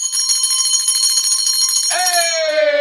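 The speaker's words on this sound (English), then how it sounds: "Let's do a big bell for a lot of small wins." A big bell rings out loudly at a live real estate wholesaling event, a single bright struck tone with rich ringing overtones that sustains and slowly decays, close and clear.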